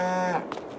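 Cattle in the Farming Simulator 22 game give a single drawn-out moo, falling in pitch, heard fairly close and alone with nothing else in the background.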